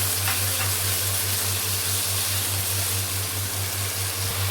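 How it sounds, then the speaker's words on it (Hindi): Half a spoon of ground coriander and cumin frying in a pan for a Delhi-style chicken aloo keema stew gives a steady, even sizzle with a constant low hum beneath it and no speech. "ये हमारे पास आधी चम्मच जो है ये जीरे भी हम शामिल कर देते हैं। अच्छी तरह से भून लेते हैं।"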